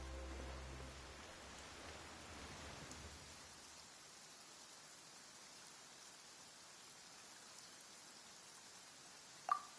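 Sudden rain in a fantasy game scene falls as a steady, faint hiss of drops that continues throughout, over a low hum that fades in the first few seconds, with no talking.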